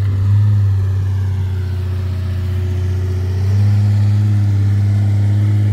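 A ZAZ car engine labors loudly while climbing an off-road hill, its steady low hum holding throughout and deepening in pitch as the revs change about halfway through.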